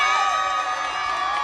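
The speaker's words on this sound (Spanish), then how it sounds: "Bueno, un aplauso porque es la" Crowd cheering and whooping with applause at a live show, loud and sustained, voices blending into a continuous roar.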